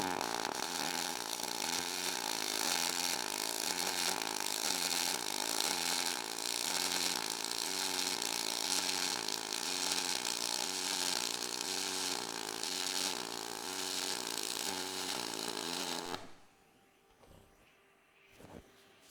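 Dual pulse MIG welding run on aluminum with a 253DPi welder, a loud steady buzzing crackle with a fast rhythmic high-low pulsing that runs continuously, then cuts off abruptly near the end, leaving faint clicks.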